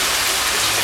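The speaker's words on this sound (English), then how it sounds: "not out there where the raindrops are falling" Steady rain falls outdoors, a dense, even hiss of drops with no voices.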